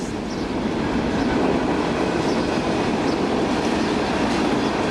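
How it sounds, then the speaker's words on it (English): A train rumbles steadily past nearby, a loud continuous roar of wheels on rails lasting throughout. "Oh, I love to watch the train go."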